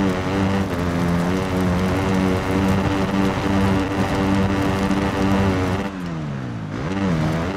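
A Yamaha 450 dirt bike engine in the Monster Energy Supercross video game revs hard and holds near its limit, a loud buzzing drone with stepped gear changes and a falling-then-rising sweep near the end, no talk over it.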